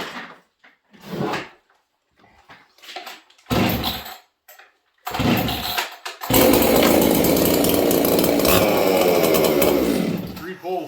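A Dolmar chainsaw fitted with a Hogan 266 pipe is cold-started: several short bursts from pulls on the cord, then the engine catches and runs loud and steady to the end.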